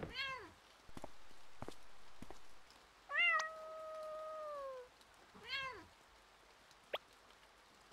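A cartoonish cat in the video game Imposter Factory meows three times, one long drawn-out yowl between two shorter calls, clear and close against near silence with a few soft clicks.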